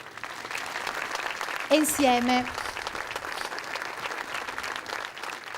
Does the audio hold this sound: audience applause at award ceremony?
yes